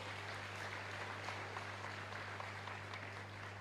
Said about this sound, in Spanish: Fuerte aplauso para ustedes, fuerte aplauso